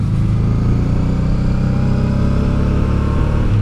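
Honda Deauville motorcycle engine pulling hard up the Col de la Bonette mountain pass, a loud, steady, close drone of the motor under load that continues without break.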